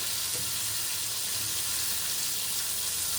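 Chicken popcorn pieces sizzle in hot oil over a medium flame, a steady broadband frying hiss with faint bubbling, close and continuous with no talking.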